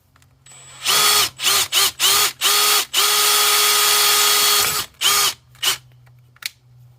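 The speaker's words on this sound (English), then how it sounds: "drill out this rivet." A power drill with a 3/16 inch bit drilling out a rivet whines in several short bursts, then one longer sustained run, then a few more quick bursts, close and loud.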